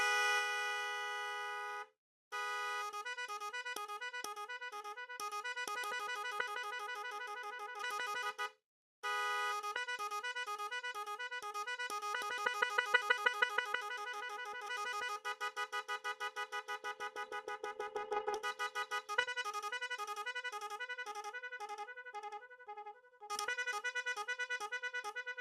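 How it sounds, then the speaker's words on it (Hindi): A MOCC 18-sound electronic horn for cars and bikes, powered from a small battery, blares a run of loud tonal honks and melodic patterns that switch between tones, with a couple of brief gaps and no talking. "हॉर्न के साउंड भी बहुत ही जबरदस्त है"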